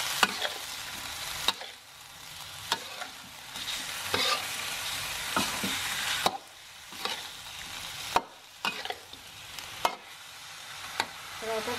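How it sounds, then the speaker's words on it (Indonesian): Pressure-cooked beef tripe fries in a hot pan while a spatula stirs it repeatedly. Sharp scraping clicks recur over a continuous sizzling hiss, close and alone. "Saya masukkan babat yang sudah dipresto tadi. Diaduk-aduk sampai merata."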